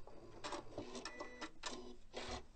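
A sewing machine stitches a tie-off on a decorative border stitch, giving several short, clear mechanical bursts of rapid needle chatter separated by brief pauses, close and alone.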